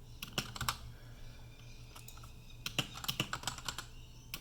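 Keys on a computer keyboard tapped in two quick bursts separated by a pause, close and quiet, with no voices.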